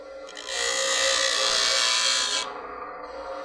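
A gasket scraper blade is slid sideways along a fence with a finger guiding it, producing one continuous close, bright scraping rasp lasting about two seconds before stopping.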